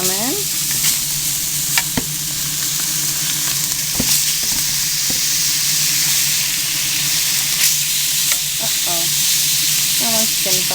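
Salmon fillets frying in a pan, a loud continuous sizzle and hiss with scattered pops and clicks of a utensil as the fish is turned, close up.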